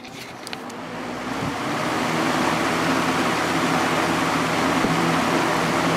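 A vintage Galaxy 3713 box fan switched on to high, its motor hum and airy whoosh swelling over the first couple of seconds and then settling into a steady, even drone with a slight wobble.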